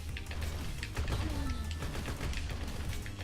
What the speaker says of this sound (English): I'm going to safely wait for that cannon shot.